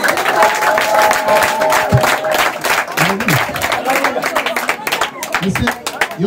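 A crowd at a school party applauds a man, with loud, continuous clapping mixed with voices and talk that runs over the top.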